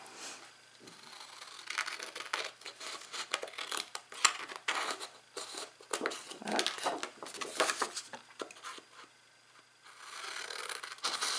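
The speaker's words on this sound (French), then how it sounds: "Les 4 coins on les coupe tout simplement." Scissors snipping the four corners off a scrapbooking gift pouch, a steady run of close, crisp paper cuts and rustles with a brief quieter pause near the end.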